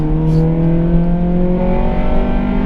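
A Honda Civic Type R FN2 on lowering springs revs hard as its engine pulls toward VTEC, a loud steady high-pitched wail that climbs slightly from inside the car.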